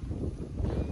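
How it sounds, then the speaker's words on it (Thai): Strong wind gusting across the microphone during kite flying on the first cold-wind day of the year, a constant low roaring rumble with no voices. "ลมแรงมากค่ะ"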